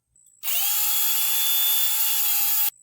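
A cordless drill spins up with a steady high whine for about two seconds while cleaning a rear wheel bearing seat on an XR650R dirt bike, then stops abruptly; close and loud, with no talking.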